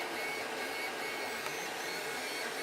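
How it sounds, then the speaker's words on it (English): 3D printer running a print at 100 mm per second, a steady close hiss and whir of fans and stepper motors without pause, fairly quiet overall and with no speech. "I think it is definitely quieter than my old printer. Even at 100 mil per second now, I reckon it could go faster than this."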